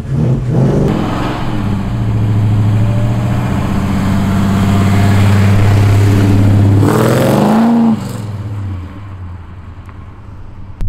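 A first-generation Chevelle muscle car in first gear, its engine revved loud and close in one long sustained rip that climbs in pitch before dropping back to a rough idle.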